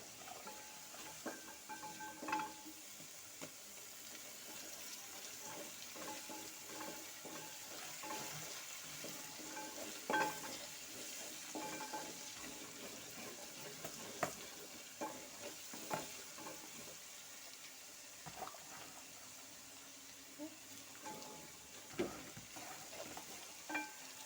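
Curry leaves fry with ginger-garlic paste for a lubika pickle, a steady close sizzle broken by scraping stir strokes from start to finish, with no voices.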